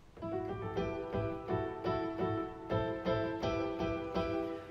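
A short melodic phrase played on piano, repeated notes struck in a steady rhythm, clear and moderately soft.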